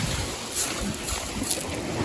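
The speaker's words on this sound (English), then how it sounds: "The waves are too big." Big ocean waves crash and wash onto a beach, too rough for swimming, making a steady broadband roar mixed with gusting wind noise and no voices.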